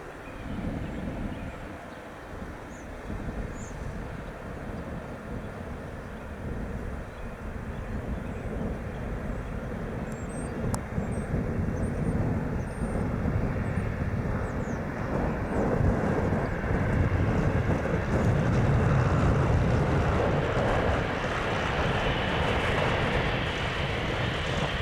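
A Piper Cherokee light aircraft lands at Spirit of St. Louis Airport, its engine a continuous broadband drone that slowly grows louder and fuller over the runway, heard alone without talk.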